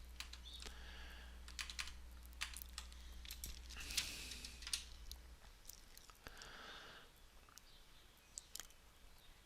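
Fast, uneven clicking of keys on a computer keyboard as a Docker command is typed, quiet and close, with bursts of keystrokes and brief pauses and no talking.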